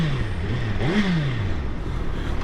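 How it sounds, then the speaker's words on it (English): 2022 Suzuki Hayabusa motorcycle exhaust, an engine note under heavy wind rush, rising briefly as the revs climb then falling away, steady and fairly loud throughout with no talking. "I don't know how well the GoPro's picking up the exhaust on this thing."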